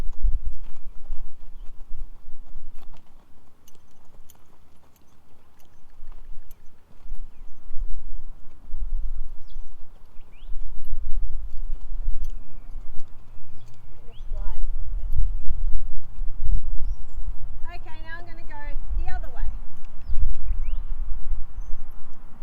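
A horse being schooled under saddle walks forward with steady, fairly close hoof clip-clops, while a person talks and the horse snorts near the end.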